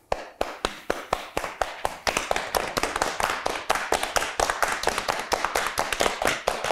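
Hands pat on the legs in a body-percussion pattern, a steady series of sharp close slaps that starts sparse and quickly builds into a dense, even rhythm, with no talking.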